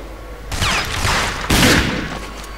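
Gunfire in the shooter game RAGE: two loud, close bursts of rapid shots, each cracking sharply and then trailing off, with no talk over them.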